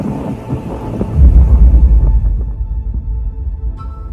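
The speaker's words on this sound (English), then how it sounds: "Rumbling thunder rolls through the distance," Deep thunder rolls over the Amazon rainforest, a loud, low rumble that swells after a second and then slowly fades over several seconds. There are no voices.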